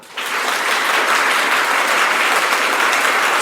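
Loud, dense applause from a classroom audience clapping on cue, starting abruptly and holding steady and full throughout.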